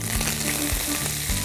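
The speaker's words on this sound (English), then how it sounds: "Can you hear the seeds are spluttering?" Spice seeds splutter and crackle in hot oil, a steady sizzling hiss broken by sharp pops, close by and with no talking.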